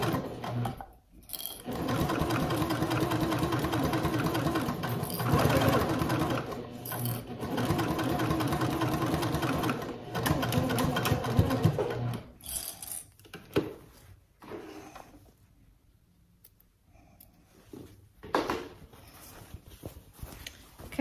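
A sewing machine runs long steady bursts while stitching the seam of a fabric trick-or-treat bag, its motor buzz and needle clatter close and continuous, with brief pauses and small mechanical clicks between runs.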